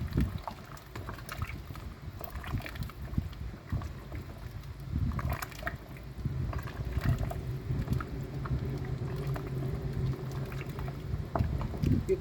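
Water boils hard in a cooking pot for a pepper stew, giving a steady dense bubbling and rolling that runs close and continuous throughout.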